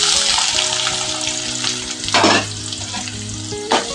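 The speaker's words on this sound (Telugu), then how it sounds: "కోసిన ఉల్లిగడ్డ ముక్కల్ని తాలింపులో వేసుకుంటున్నాను" Chopped onions hit hot oil in a tempering of cumin and chillies, giving a loud, steady close-up sizzle with two sharp bursts of spattering as the pan is stirred.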